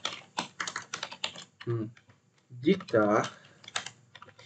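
Rapid clicking keystrokes on a computer keyboard, close and steady, in uneven bursts while someone talks over parts of it.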